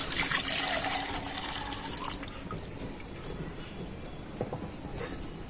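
Strained cow's milk poured from a vessel into a wok for kulfi malai, a steady close liquid stream with splashing that thins after a couple of seconds into softer trickling and drips.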